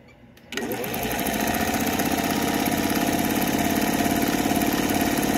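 A Singer 101 sewing machine starts up and runs steadily at full speed, a loud, even mechanical whir with rapid needle chatter that continues without a break.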